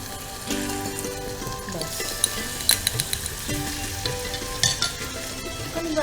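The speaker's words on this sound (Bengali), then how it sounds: "জাস্ট একটুখানি ভেজে নেবো।" Finely grated ingredients fry in a pan for a vermicelli prawn dish, giving a steady sizzle with stirring scrapes and a few utensil clinks, close and continuous without talk.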